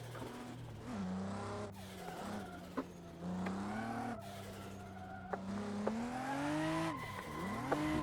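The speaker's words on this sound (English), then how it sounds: "give some clutch, put the gas in, drop the clutch, you can slide the corner pretty well" Car drifting around a mountain road corner in the racing game Assetto Corsa, engine droning and revving as tires squeal through repeated slides, steady and close.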